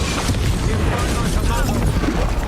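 Bombarda explosion spell in the video game Hogwarts Legacy during a spell-heavy battle, a loud sustained rumbling blast with crackling bursts under a dense mix of combat noise and voices.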